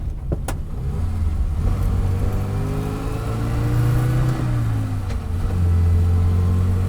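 A 1959 Mini on the move, its small engine giving a loud, close, continuous drone whose pitch sags and climbs as the revs change, with no talking over it.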